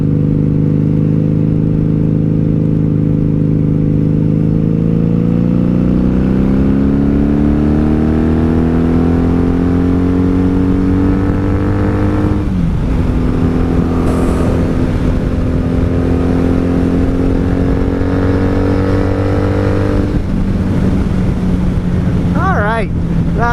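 A wrecked 1997 Honda Magna VF750C on a highway run sends out a loud, close engine drone that climbs steadily in pitch as it accelerates, drops at a gear change, then climbs again under heavy wind buffeting.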